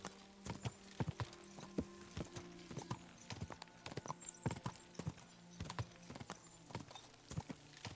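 A horse's hooves clip-clop steadily in a video game as the rider steers along a road, crisp regular hoofbeats close up over a low hum.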